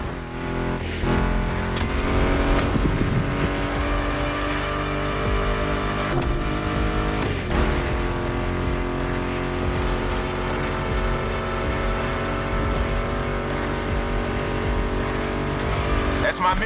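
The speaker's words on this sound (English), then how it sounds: "Meshes well with the sound of the engines" Car engines rev and accelerate in The Crew Motorfest racing game, a loud sustained roar with rising pitch sweeps, mixed under a music track with no pauses.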